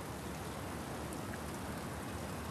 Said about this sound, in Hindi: लेकिन ये हमारी पहली बारिश है।